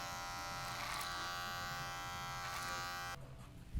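An electric hair clipper buzzes steadily close by as it cuts hair clipper-over-comb during a taper haircut, then cuts off near the end, leaving quiet handling noise.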